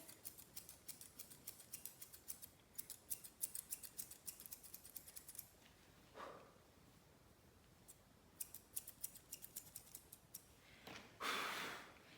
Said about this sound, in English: So I'm going to take my thinning shears.